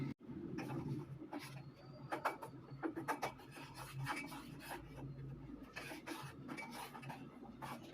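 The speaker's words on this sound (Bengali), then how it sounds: "এবার এর মধ্যে দিয়ে দেবো ফ্ল্যাক্সিড, দিয়েই আমাকে নাড়তে চাড়তে হবে।" Flaxseed stirred into boiling water in a pot for a homemade hair treatment, a spoon scraping and rasping steadily against the pot in close, continuous strokes with no talking.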